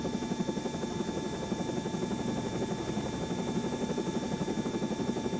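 Simulated helicopter in a flight simulator game lifting into a hover, a steady droning rotor and turbine buzz with a rapid rhythmic blade pulse, constant and fairly close throughout.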